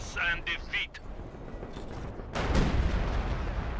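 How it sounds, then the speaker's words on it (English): Howitzer artillery fire in Company of Heroes 2, a 3v3 match on La Gleize, lands as a distant muffled boom followed by a rumbling barrage, under lively talk from a commentator. "I think I heard a howitzer looking to soften up INKODE's position."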